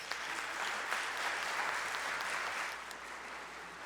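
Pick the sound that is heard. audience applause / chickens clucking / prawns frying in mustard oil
audience applause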